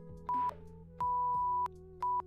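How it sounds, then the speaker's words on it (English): Morse code beeps from a practice key: a short tone, then a long dash, then another short tone, each a clean steady pitch over a low background hum, with no talking. "That's a dash. A dash is a long one."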